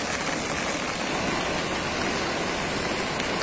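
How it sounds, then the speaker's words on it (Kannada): Water from a spring cascades into the Agastya Tirtha pond at Badami after rainfall, giving a loud, continuous rushing hiss with no pauses. "ಅತಿ ಹೆಚ್ಚು ನೀರು ಕಾರಂಜಿ ಕಡೆಯಿಂದ ಬರುತ್ತೆ"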